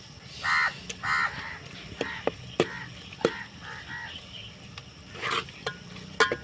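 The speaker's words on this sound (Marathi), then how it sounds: "छान हलवून घ्यायचं भाजून घ्यायचं त्याला व्यवस्थित तेल सुटलं पाहिजे" Ground masala paste being stirred and roasted in oil in a pan over a wood-fired stove, soft sizzling with scraping stirs and clinks, while crows caw repeatedly nearby outdoors.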